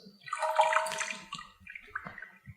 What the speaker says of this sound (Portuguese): e colocar na água gelada.